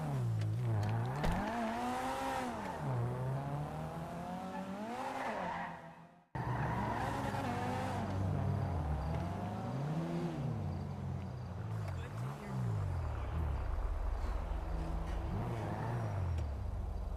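Game-style car engine revving up and down with repeated tire squeals and skids, loud and continuous, broken by a brief cut to silence midway.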